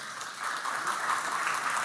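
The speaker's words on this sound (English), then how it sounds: "So let's give a round of applause for that," Applause at a club meeting marking a community's 26th anniversary, a steady patter of hands at moderate distance, fairly soft and even throughout without speech.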